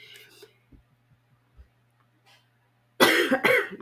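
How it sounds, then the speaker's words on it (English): A single loud, harsh cough bursts out near the end after near-silence with a few faint soft sounds and a low hum. "Try not to cough through this."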